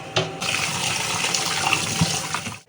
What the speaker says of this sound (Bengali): এই যে চিংড়িগুলো এখন আমি ধুয়ে বেছে নেব